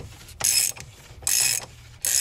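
A Range Rover L322 oil filter housing cap being turned loose with a large pair of pliers, giving three separate loud grinding, scraping ratchet-like bursts, close up and alone.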